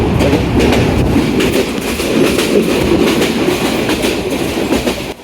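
A train rolls along a rail line through dense sal forest near Joydebpur, its wheels clattering in a steady, loud rumble that holds close and continuous throughout.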